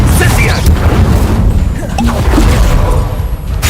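A Confringo blasting spell in Hogwarts Legacy erupts in loud booming crashes, dense low impacts and debris rumbling for several seconds amid game combat noise.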